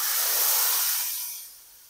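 Whole red chilies and Kashmiri red chili powder hit hot oil in a dal tadka, giving a loud, close, broadband sizzle that swells briefly and then fades within two seconds.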